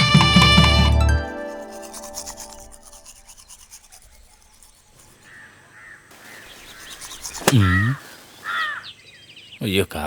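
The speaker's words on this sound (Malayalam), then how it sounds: "അയ്യോ കാക്ക." A crow caws during a Malayalam short film scene: a couple of brief, harsh calls arrive late, after fading music and a quiet stretch, mixed with other sounds.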